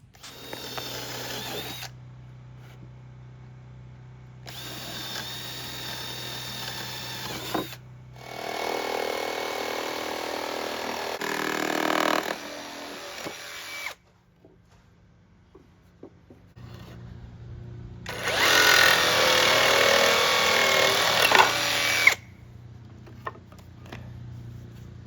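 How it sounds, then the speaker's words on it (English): Power tool cutting a large slot into a wooden bed panel for an SUV camper build, then drilling, heard as several loud, sustained bursts of whirring separated by short pauses, with one final strong burst. "So I'm going to cut it out a slot, a big slot in the middle before I drill it back down"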